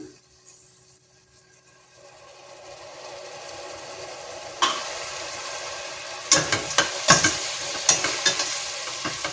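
A quiet pan starts almost silent, then spices for a tempering hit hot oil and sizzle, rising into sharp popping and crackling bursts that grow louder and more frequent toward the end, close up in a home kitchen.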